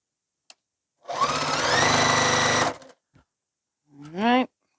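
Sewing machine stitching fabric pieces: a single steady motor-driven run of about a second and a half, loud and close, followed by a brief voice.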